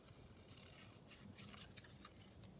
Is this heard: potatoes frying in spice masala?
no